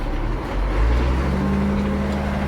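Ford 9700 tractor engine idling with a steady low diesel rumble while being shifted into fifth gear; a brief swell in loudness marks the gear change, and no one speaks.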